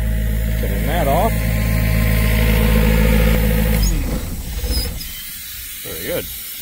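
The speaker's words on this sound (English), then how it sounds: "I think this thing's idled a bit, so we can turn that off." A large idling engine on a trailer restoration job runs steadily and loud, then is shut off around the four-second mark and winds down. Its low rumble gives way to quieter surroundings, and people talk over and after it.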